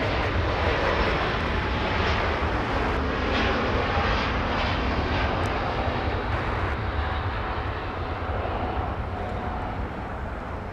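A jet airliner departing Los Angeles International Airport, a broad, loud engine roar and rushing noise that stays steady throughout with only a slight fade toward the end, heard alone without talk.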